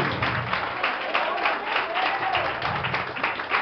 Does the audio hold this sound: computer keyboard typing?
no